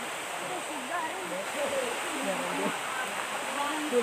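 The Lalaugon Falls waterfall rushes in a steady broadband roar, with voices talking faintly over the water throughout.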